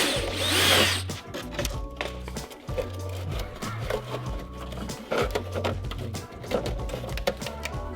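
A power drill bores holes through a car bumper so it can be stitched back together with zip ties. The drill whines in several repeated bursts, each lasting about a second, with short pauses between them. The drilling is close and fairly loud.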